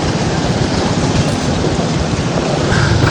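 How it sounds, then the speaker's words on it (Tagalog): Steady, dense rain falls and patters loudly on surfaces throughout, with no voices. "Pumapatak na naman yung ulan dito mga idol."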